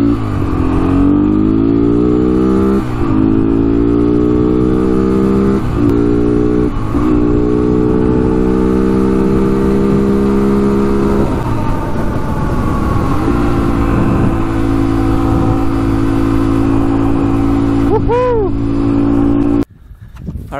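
A Honda 300EX ATV engine runs loud and close, revving up and down repeatedly with rising and falling pitch, then cuts off abruptly near the end.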